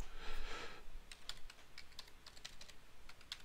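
A new password typed on a computer keyboard: a soft breathy noise at the start, then a quick irregular run of faint, crisp key taps.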